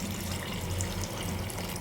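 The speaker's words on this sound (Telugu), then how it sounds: "కొన్ని వాటర్ వేసేసుకుందాము." Water poured into ground lentils in a pot while cooking pappu charu, a steady close splashing wash of liquid running for a couple of seconds with no talk.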